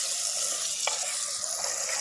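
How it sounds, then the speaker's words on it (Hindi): Chicken with dried fenugreek and garam masala frying in a handi, a bright continuous sizzle with one brief clink of a spoon, close and alone. "हमने बहुत अच्छी बुनाई करनी है 3 से 4 मिनट तक चिकन की"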